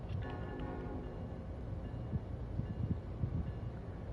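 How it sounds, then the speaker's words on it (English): GE Evolution (Gevo) diesel locomotives idling in a train simulation game, a loud, steady low engine rumble with faint rail and wind noise, no talk. "Hear those Gevos idle up behind me?"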